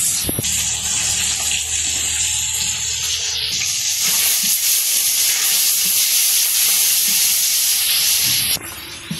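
Sing catfish rubbed with turmeric, chili and salt fry in hot oil in a wok, giving a loud, steady hiss and sizzle that runs the whole time, with a sharp burst near the start as the fish go in.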